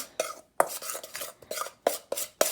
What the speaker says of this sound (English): I'm going to stir that in as well.